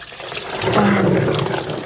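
Water draining and splashing out of a 6.0 engine during teardown, a steady close rush of pouring liquid with a brief tonal gurgle partway through, loud and continuous with no talk.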